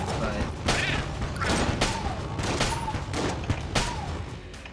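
Shots from the science cannon in the Enter the Gungeon video game, a series of loud repeated bursts with rising whooshing tails, heard about once a second over busy game noise.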